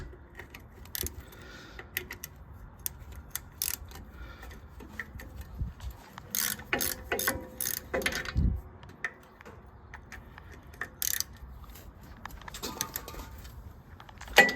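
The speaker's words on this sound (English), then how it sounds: "Then we'll take off the two 9/16" bolts on the back." Metal tool clicks and clinks come from work on a 2.5-ton Rockwell axle hub of an M35A2 truck as two 9/16-inch bolts are removed, sparse sharp taps and rattles with quiet gaps between them.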